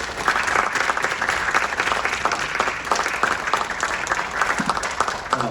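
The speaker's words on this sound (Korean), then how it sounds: "큰 박수로" An audience applauds to welcome a speaker at a business lecture, giving warm, even, continuous clapping from many hands at moderate volume.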